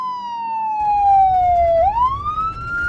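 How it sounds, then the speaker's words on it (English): A police car siren wails in one long, loud, close tone that slowly sinks, then sweeps back upward, switching partway through from an outside recording to an inside-the-car recording, with low vehicle rumble underneath. "The siren does change from exterior to interior, but I matched the pitches so that it didn't bump."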